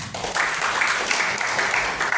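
A church congregation claps for God during a sermon, a brief burst of steady, fairly soft applause that holds evenly for about two seconds.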